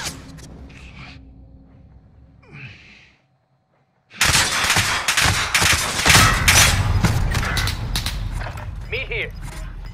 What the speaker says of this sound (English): Heavy fire here.